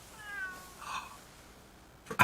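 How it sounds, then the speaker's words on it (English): A cat in the video game Ghostwire: Tokyo gives a few soft, close meows, the last one louder, with no talk over them. "But you're meowing, but you don't have anything to say."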